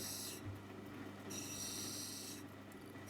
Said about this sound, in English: So I'm going straight in to take that top sand off that crystal ball